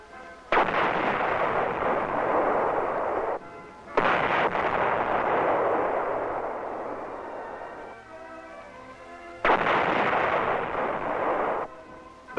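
An M60 tank firing in a film, with three heavy, loud cannon blasts, each a sudden boom followed by a long rumbling roar that fades over several seconds before the next shot.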